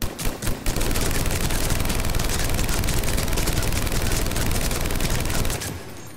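Sustained rapid assault rifle fire in the video game Mass Effect 3, a loud continuous burst of automatic shots after a few opening single shots, cutting off near the end.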